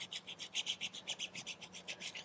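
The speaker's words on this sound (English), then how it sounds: "I take 220 sandpaper, and I'm gonna go in here and just score this a little bit." Sheet of 220-grit sandpaper scoring a patch for a repair, a quick run of about twenty close, evenly spaced rasping strokes with no voices.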